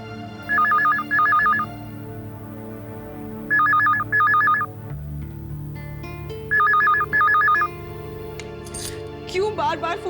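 A telephone in a domestic home rings repeatedly, with three separate double-burst rings spaced a few seconds apart, loud and close, followed by a brief clatter.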